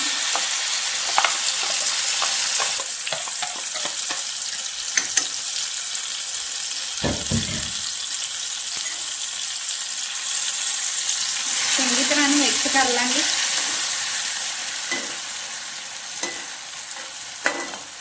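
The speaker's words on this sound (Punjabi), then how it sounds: "ਤੇ ਹੁਣ ਆਪਾਂ ਇਹਨੂੰ ਤੜਕਾ ਲਾ ਲਾਂਗੇ ਸਾਗ ਨੂੰ" Ground onion, tomato, green garlic and ginger paste tempered in a pan for mustard greens saag, a continuous sizzle with stirring clicks and a brief watery swirl midway, close and moderately loud.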